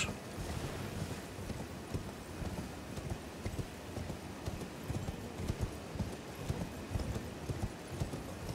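A horse's hooves pound in a continuous galloping clip-clop in Elden Ring, a steady rhythmic beat over a soft wind-like ambience, with no speech.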